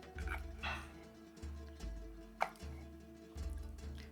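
Boiled potatoes are pounded and mashed in a pan for kashkan kompir, a traditional dish: repeated dull, rhythmic thuds come in clusters, with one sharper knock midway and no voices.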